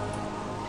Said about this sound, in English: It is annoying when it rains in this game, since it partially disrupts my recording.